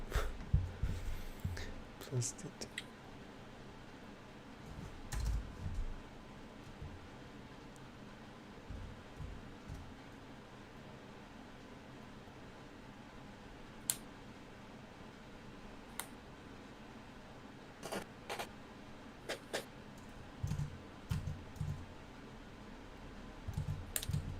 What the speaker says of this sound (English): I also just hear William typing something from time to time